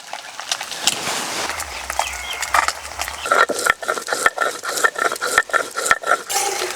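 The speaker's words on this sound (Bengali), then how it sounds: "এবার একটুখানি জিরে বেটে নেব।" Cumin is ground on a flat stone grinding slab (shil), heard as close, rhythmic rattling and scraping strokes that grow regular in the second half, with a few clinks and no speech.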